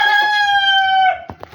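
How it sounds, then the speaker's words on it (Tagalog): A rooster crows once, loud and close, in a long drawn-out call, followed by a couple of short clucking sounds. "Ayan yung mga ibon natin"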